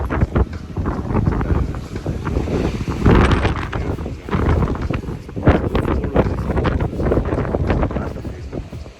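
Strong wind buffets the microphone at the Needles on the Isle of Wight, a loud, gusty, rumbling roar that rises and falls throughout.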